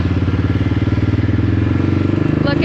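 A four-wheeler drives up across a farm with a child at the controls, its engine running close and loud with a steady, throbbing drone for the whole stretch.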